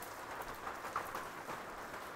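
Light drizzle falls at a livestock farm, giving a soft, faint, steady patter with no other sounds standing out.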